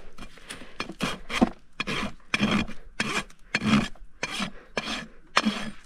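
A rasp files the quarters and heels of a barefoot horse's hoof on uneven ground, a rhythmic series of close, gritty strokes with short pauses between them.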